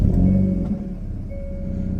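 A Hyundai i30 N hatchback engine rumbles steadily at idle, a low, throaty drone with a slight swell early on, heard up close with no talking.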